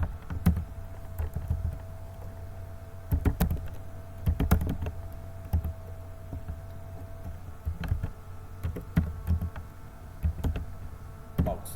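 A computer keyboard clicks as text is typed into an Excel text box, in irregular bursts of keystrokes separated by short pauses, close and moderately loud.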